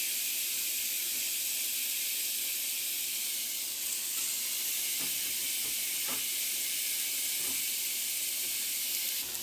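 Chicken sizzles in a non-stick skillet, a steady, close, bright hiss with faint crackles and no talk.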